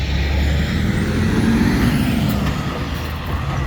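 A heavy truck rolls past outdoors with a loud, steady diesel rumble and a faint hiss of air brakes, staying close and dominant throughout with no voices.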